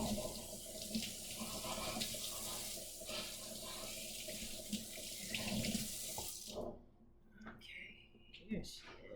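Tap water runs steadily into a kitchen sink as fresh salmon is rinsed, a close, continuous splashing stream that cuts off abruptly, followed by a few faint handling sounds.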